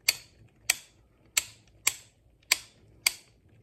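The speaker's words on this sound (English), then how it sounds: "just for as a function check here," A black steel Tacfire Gen 2 ambidextrous safety selector clicks six times at a steady, even pace during a function check, each click sharp, crisp and close, with quiet gaps between.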